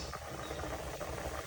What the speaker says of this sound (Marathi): आणि अजून मस्त आपला उकळते